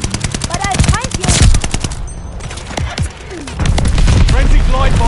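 Bombing run in a shooter video game: rapid bursts of machine-gun fire and crackling shots pile up with heavy booms, dense and loud throughout, a short lull in the middle before the barrage resumes.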